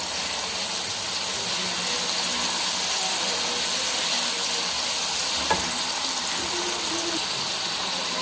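Garlic ginger paste hits a hot pan of oil while a turnip (shalgam) dish cooks, giving a loud, steady sizzle that hisses evenly throughout with faint clinks of stirring.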